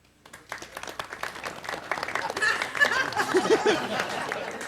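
A studio audience breaks into applause that builds from scattered claps to a fuller, busier round, mixed with some chuckling and laughter.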